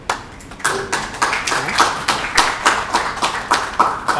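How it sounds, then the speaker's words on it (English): A small conference audience claps for a security talk, individual hand claps spaced and distinct, a sparse rhythmic patter of a few people rather than a full roar, fairly close and moderately loud. "Let's give him a round of applause"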